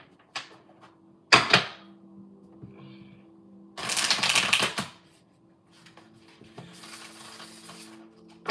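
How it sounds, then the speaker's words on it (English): Tarot cards being shuffled in several quick riffling bursts, with soft taps and shuffles between them, close up and with no talking. "Let's give it a good shuffle."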